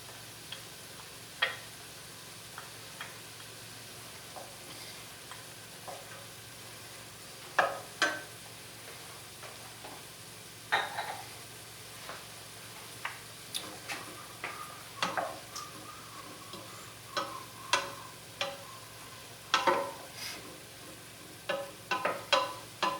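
Onions and garlic fry faintly in a pot for shrimp chowder, with a low steady sizzle and scattered sharp clicks and scrapes of stirring that grow more frequent toward the end.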